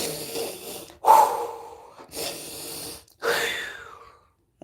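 A person takes slow, deep breaths while resting a rose quartz crystal on the chest. Three or four long airy inhales and exhales follow close together, near and clear, with short pauses between them and no talking.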